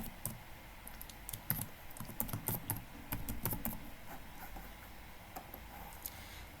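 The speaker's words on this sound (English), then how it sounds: "So I'll enter my email address here." Someone types an email address on a computer keyboard for an online scholarship application, a steady run of light, irregular key clicks that stays close and fairly quiet for several seconds, with no voices.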